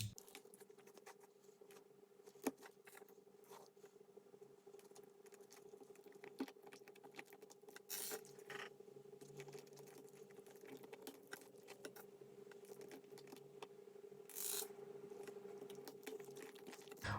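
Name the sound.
assembling a non-magnetic 4x4 Rubik's cube, pieces clicking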